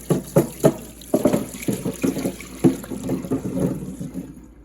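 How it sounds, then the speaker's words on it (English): Tap water running over soaked pinecones held in a plastic strawberry container used as a strainer, splashing and knocking in an uneven rhythm up close, fading out at the end. "And now I'll rinse them off. I'm using a strawberry container as a makeshift strainer."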